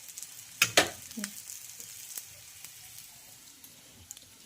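Bread soaked in egg mixture fries in a pan, giving a couple of sharp crackling bursts when it hits the hot surface and then a soft, faint, steady sizzle.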